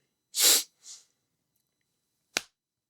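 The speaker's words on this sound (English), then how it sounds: "been holding in that sneeze for a while." A single close, loud human sneeze bursts out sharply, followed by a softer exhaled echo and, after a pause, a brief sharp sniff or snort.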